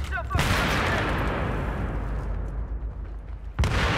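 A grenade bursts during a multiplayer shooter match: a sharp loud blast followed by a sustained roaring rumble, then another sharp crack near the end, with brief voices.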